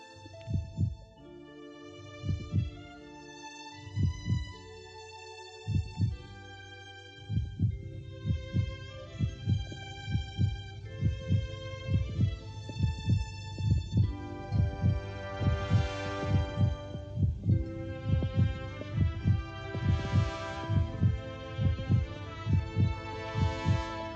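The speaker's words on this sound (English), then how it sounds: "Its heart's beating." Heartbeat of a swallow in an animated film, a low rhythmic thumping that starts sparse and then beats steadily and regularly over a soft sustained musical score, with no speech.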